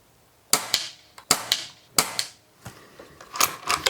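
HW100 air rifle fired at a paper target, several sharp cracks spaced out, each followed by a brief mechanical clatter of the action and a metallic ring.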